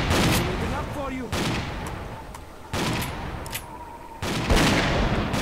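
Gunfire crackles in S.T.A.L.K.E.R. Clear Sky as soldiers shoot each other: sustained bursts of distant rifle fire in several loud waves, with a voice talking in between.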